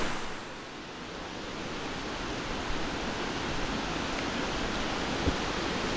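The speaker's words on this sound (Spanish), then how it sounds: "el agua va buscando las zonas bajas, siempre se va tirando al lado de el Sanjón El Chino" Steady broadband rush of floodwater flowing toward low ground beside a channel after heavy rains, a continuous even roar at moderate distance with no voices.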